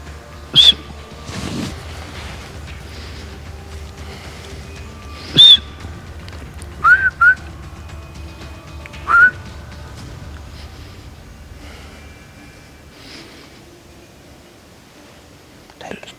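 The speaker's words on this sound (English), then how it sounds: "Do you want me to whistle?" A person whistles during a leopard hunt in Zambia, giving several short, sharp whistle blasts spread across an otherwise quiet outdoor scene with low background hum and faint rustling.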